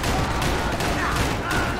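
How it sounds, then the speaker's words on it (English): Rapid gunfire and booming shots in the action video game Max Payne 3, dense and continuous over the whole moment, with a voice briefly heard underneath. "Why am I shooting him in the leg?"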